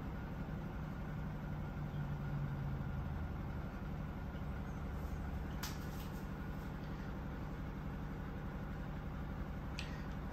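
Steady mechanical hum and drone of a QFlow 2.5kg mini washing machine running its spin cycle toward 700 RPM, a constant even whir with a couple of brief faint clicks.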